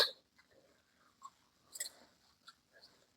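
Close, quiet chewing of a beef wonton, with scattered soft bites and wet mouth sounds separated by pauses.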